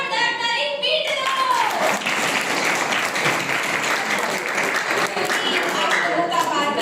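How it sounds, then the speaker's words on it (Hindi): A large audience claps loudly and steadily at a spiritual comedy poetry gathering. The dense, continuous clapping fills the whole stretch, with a voice faintly audible over it. "तो एक बार जोरदार ताली पीट दो।"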